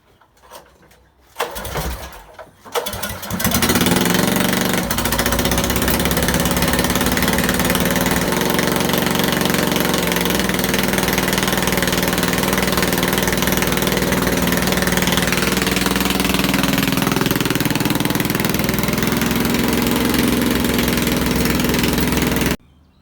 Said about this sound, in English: I've just put a 19mm socket on the end of this motor, which is a taper drive motor off a generator